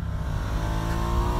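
A 2019 Ducati Diavel 1260 S motorcycle accelerates hard, its engine holding a loud, continuous, rising roar close up with steady harmonic drone and no talk.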